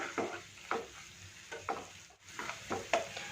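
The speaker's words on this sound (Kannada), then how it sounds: "ಇದನ್ನೆಲ್ಲ ಸ್ವಲ್ಪ ಚೆನ್ನಾಗಿ ಮಿಕ್ಸ್ ಮಾಡ್ಕೊಳ್ತೀನಿ ಸ್ವಲ್ಪ ಬೆಟರಲ್ಲಿ ಸ್ವಲ್ಪ ಅದು ಫ್ರೈ ಆಗಬೇಕು" Gravy masala sizzles in a pan as it is stirred and fried, with a steady oily crackle under about seven evenly spaced scraping strokes, close and moderately loud, with no voices.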